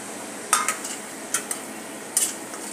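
Green masala paste is sautéed in a pan, with a soft sizzle under scattered sharp clinks and scrapes of a spoon stirring against the metal.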